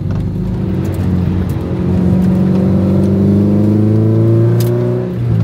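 A Toyota MR2 accelerates on a track at Chenevières, its engine note rising steadily in pitch over several seconds, loud and close with no talking.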